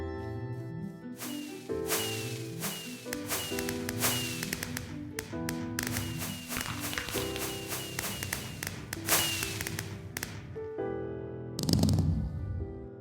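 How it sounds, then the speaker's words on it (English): Video game fireworks from an automated firework show, many sharp pops and crackling bursts firing in rapid irregular succession over a musical backdrop, with a louder burst near the end. "some random fireworks will go off while the machine is on"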